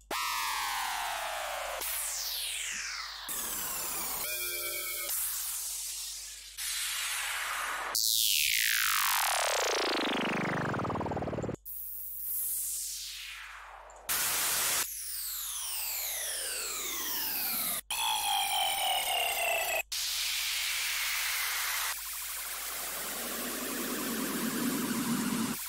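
A series of downlifter effects from an old 2011 Vengeance sample pack, each a loud synthetic sweep falling steadily in pitch, played one after another with short gaps and no talking.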